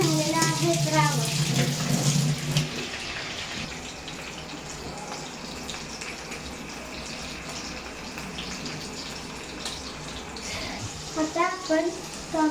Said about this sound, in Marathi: आता स्वच्छ धुवून झालेला आहे रावस